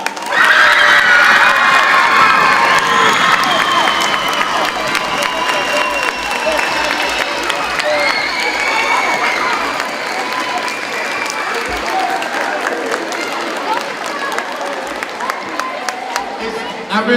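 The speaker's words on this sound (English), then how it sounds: "Give our Bulldog Bluegrass veterans one last round of applause." A Veterans Day celebration audience applauds and cheers for bluegrass veterans, with a loud, sustained wash of clapping and shouts that holds steady for the whole stretch and ends with a few sharper claps.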